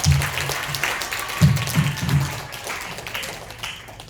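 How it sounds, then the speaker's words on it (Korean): A student church-group audience breaks into applause, many hands clapping together in a lively, uneven patter that swells and eases over a few seconds. "감사의 박수 드리고 싶습니다."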